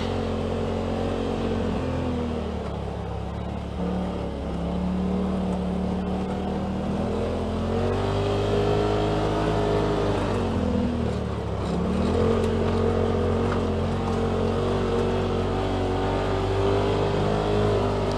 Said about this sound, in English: this is a 2018 Polaris RZR XP Turbo, Walker Evans edition